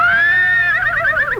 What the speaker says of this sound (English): Food for you, Major the horse